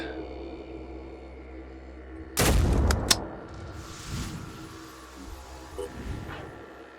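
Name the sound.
gunshots in the video game Phoenix Point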